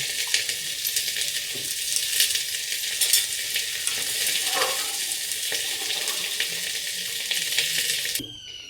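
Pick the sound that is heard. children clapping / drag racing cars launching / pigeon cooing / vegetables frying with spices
vegetables frying with spices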